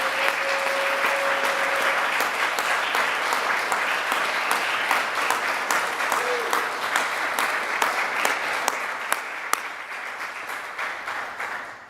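Sustained applause from an audience at a Pi Kappa Lambda music honor society induction ceremony, many hands clapping steadily for about twelve seconds with a few sharper claps standing out near the end.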